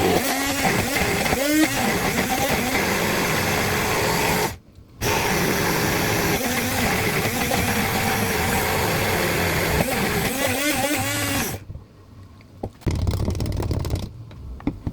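An electric grinder whirs green sauce ingredients and oil into a smooth paste for grilled chicken. The loud, steady, close whine pauses briefly partway through, then stops, leaving quieter handling noises.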